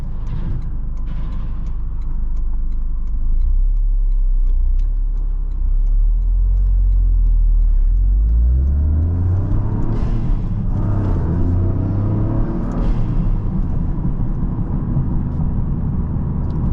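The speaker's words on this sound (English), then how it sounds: "This 3-cylinder really does have a unique sound." A Toyota GR Corolla's 3-cylinder engine drones from inside the cabin while driving, a low rumbling hum that climbs in pitch as the car accelerates, then rises and falls through gear changes.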